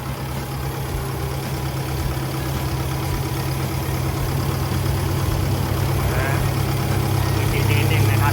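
Isuzu 4JJ1 turbo diesel engine on a Sumitomo HA60W-7 six-metre asphalt paver, idling steadily with a deep, even rumble, close and loud throughout, with someone talking over it.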